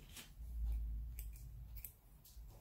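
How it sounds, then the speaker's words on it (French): Scissors cut knitting yarn while making children's slippers, giving a few soft, quick snips close by over a low background hum, with no talking. "puis on coupe le fil"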